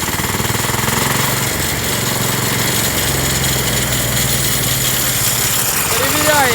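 A car engine driving an alternator on a test runs with a loud, steady mechanical drone and rises as it is revved up, while someone talks over it.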